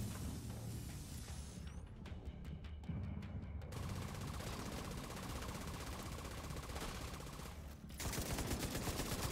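Rapid automatic gunfire from The Division 2 video game rattles in long bursts, pausing briefly before a louder, sharper volley resumes, with no talk over it.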